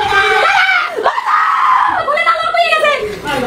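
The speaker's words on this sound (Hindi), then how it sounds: "ये महिला चिल्ला रही थी" A woman screams and wails during an attack on a home in Bangladesh, her loud, shrill cries rising and breaking repeatedly over several seconds amid agitated background voices.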